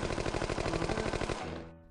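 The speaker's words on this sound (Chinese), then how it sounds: "这玉米导弹也升级了呀，不爆炸竟然发射玉米粒了" Corn missile from the Plants vs Zombies game firing corn kernels: a rapid, even burst of loud shots like a machine gun, stopping abruptly near the end.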